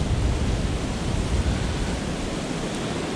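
Strong wind rushing through the trees on North Manitou Island makes a steady, dense roar that fills the air continuously, with no clear individual creaks standing out.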